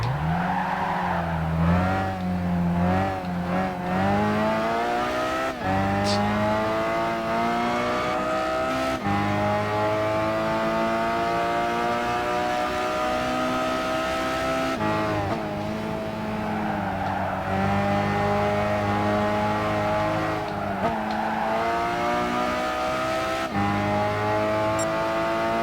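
Race car engine in Gran Turismo 5 during a roadster endurance race, heard from the cockpit, revving steadily through gear changes with rising and falling pitch and occasional tire squeal, loud and continuous.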